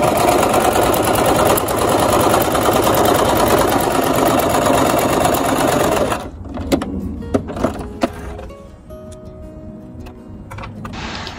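A home sewing machine stitches fabric with its stitch knob turned to the lowest R setting: a steady, loud, fast mechanical whirring for about six seconds, then it stops, leaving a few soft clicks and handling sounds.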